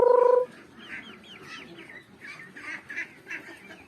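Rhode Island hens and a rooster cluck in a farm pen in the Philippines, with repeated short, moderately loud calls following a brief electronic tone at the start.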